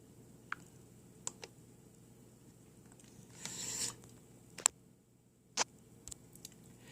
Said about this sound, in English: if you click the scroll wheel, that kind of acts as a home button in a sense